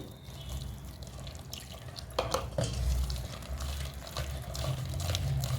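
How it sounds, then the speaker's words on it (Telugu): Thick mirchi bajji batter, like dosa batter, is mixed in a bowl by hand, making soft, wet, squelching stirring sounds with occasional light clinks against the bowl, quiet and close. "ఎక్కడ కూడా ఉండలు లేకుండా వీడియోలో చూపించిన విధంగా కలుపుకోవాలి"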